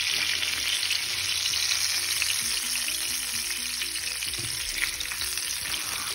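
A salmon fillet fries in a pan, giving a continuous, loud, close sizzle with faint low clatter beneath and no voices.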